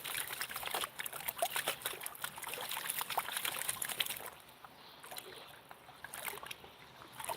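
Gravel in a gold pan being rinsed in ocean waves on a Georgia shore, heard as repeated close splashes and sloshing pulses that ease into quieter trickling water, with no voices.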